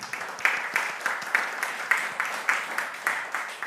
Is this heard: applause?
yes